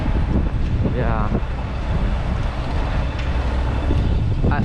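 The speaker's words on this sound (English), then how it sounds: "Oh, it's windy" Gusty wind blows across the microphone outdoors in a Brussels city square, a loud steady rushing roar with people talking underneath.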